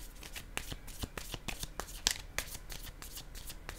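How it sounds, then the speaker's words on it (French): Playing cards being handled and laid down on a table, a quick series of crisp papery flicks and soft taps at an uneven rhythm, close and fairly quiet, with no speech. "Je dépose une carte ici."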